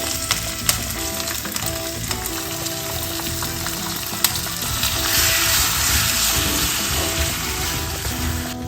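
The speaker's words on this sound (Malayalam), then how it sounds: "അതിനകത്തോട്ട് നമ്മുടെ ഈ മാരിനേറ്റ് ചെയ്തിരുന്ന ഇത് ഒന്ന് ഇട്ട് നല്ലോണം ഇളക്കുക." Marinated Surinam cherry pickle fries in sesame oil in a pan and is stirred, a continuous loud sizzle with occasional scrapes and clicks of the spoon, the frying growing stronger toward the end.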